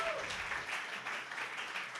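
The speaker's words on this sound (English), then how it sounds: "Round of applause, Simon Walker, everybody" Audience applause for a performer at a community creativity evening, steady dense clapping across the whole clip, moderately loud and sustained without a break.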